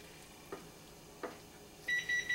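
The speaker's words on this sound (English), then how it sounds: "that's my oven, preheating to 350" Kitchen oven beeping as it preheats to 350 degrees, a steady high electronic tone that sounds near the end after two soft knocks, with a faint background hum and no talking.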